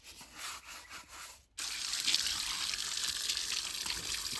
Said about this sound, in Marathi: थोडं कमी पाणी उडवा ना